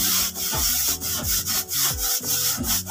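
Damp cloth rubbed firmly back and forth over a stove during cleaning, a close, loud, steady scrubbing with rhythmic strokes roughly every half second, no voices.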